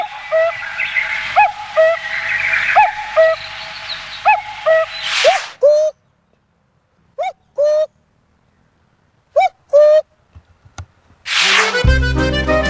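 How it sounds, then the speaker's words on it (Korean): A real common cuckoo gives a series of clear two-note calls in a steady rhythm, then falls quiet between a few isolated calls, with louder bursts of noise at the middle and end. "그렇다면 진짜 뻐꾸기 울음소리는 어떨까요?"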